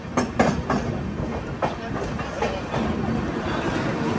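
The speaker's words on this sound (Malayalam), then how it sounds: "പന്ത്രണ്ട് 47 ട്രെയിൻ ഇതാ ശ്രീകാകുളം റോഡ് സ്റ്റേഷനിലേക്ക് എത്തിക്കൊണ്ടിരിക്കുകയാണ്" Train 12847 pulls into platform 3 at Srikakulam Road station on a Bhubaneswar to Chennai run, with a steady rolling rumble and a few sharp wheel clacks, heard close and fairly loud throughout.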